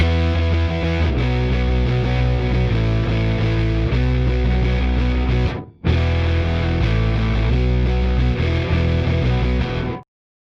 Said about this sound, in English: It's a clean bass and 2 different guitar amps